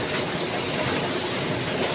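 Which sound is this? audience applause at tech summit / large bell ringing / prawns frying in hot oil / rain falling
rain falling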